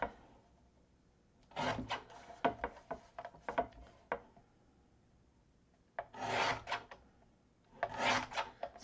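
A library pocket card being trimmed for a journal insert, heard as three separate bursts of rough scraping and rasping cuts with quiet pauses between them.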